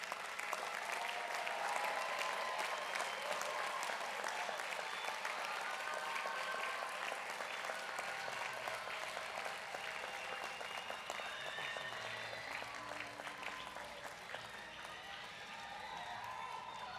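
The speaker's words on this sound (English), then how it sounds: "give your guests a strong round of applause for being with you" Graduates at a college commencement ceremony give their guests a long, strong round of applause, a dense and steady roar of clapping from a large crowd that eases slightly toward the end.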